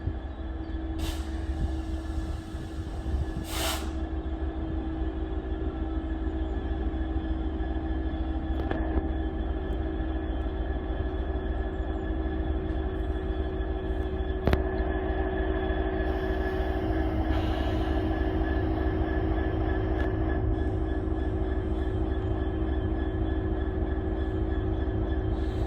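Class 66 freight locomotive 66710 running around its train at Skipton, a steady diesel drone and rumble lasting throughout, with brief air and brake hisses early on.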